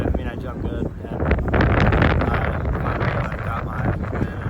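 Steady wind at an outdoor track and field meet buffeting the microphone with a broad, rumbling roar that swells slightly midway and stays constant throughout.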